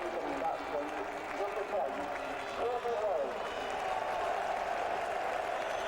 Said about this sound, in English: Tremendous cheer for Courtney, who's a wonderful fast bowler